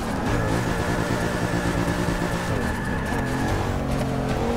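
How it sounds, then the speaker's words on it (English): A 2012 Dodge Charger drifting, a continuous loud engine drone with a steady tire squeal running over it for a few seconds. "And initiate drift."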